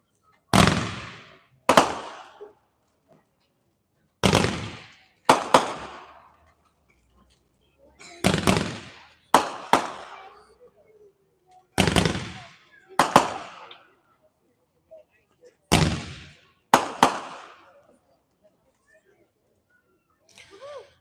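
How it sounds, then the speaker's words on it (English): Roman candle fireworks shoot off in paired sharp, loud pops spaced a few seconds apart, each followed by a brief crackling tail, with quiet gaps between shots. "Yes, those are Roman candles,"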